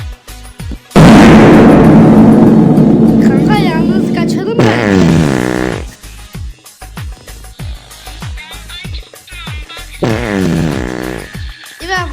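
A fart sound effect, a long loud blaring raspy blast that trails off over several seconds, followed by shorter bursts, with people talking and laughing around it.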